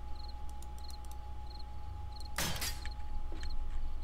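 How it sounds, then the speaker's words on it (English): Crickets chirp in steady, evenly spaced pulses over a low ambient hum in 7 Days to Die, broken by one brief loud rustling burst midway. "There's the crickets."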